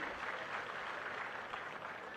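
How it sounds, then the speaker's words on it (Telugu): An audience claps at a public stage event, a steady wash of applause that holds at an even level for about two seconds with no voices heard. "గట్టిగా చప్పట్లు కొట్టండి"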